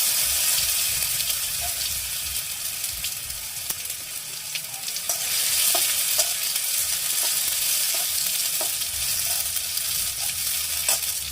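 Chopped tomato and panch phoron sizzle in a hot pan for a cauliflower roast, a steady close hiss with light scattered clicks from stirring and no voices.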